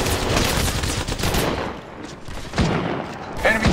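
Rapid automatic gunfire in the mobile shooter game Apex Legends Mobile, loud dense bursts that pause briefly mid-clip and then resume with heavy shots.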